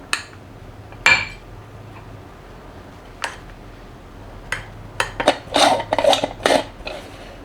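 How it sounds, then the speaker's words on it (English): Moka pot being readied for coffee in a Lisbon kitchen: scattered close metallic clinks, taps and brief scrapes, quiet at first, then a denser cluster of clattering knocks near the end. "I'm preparing my mocha pot."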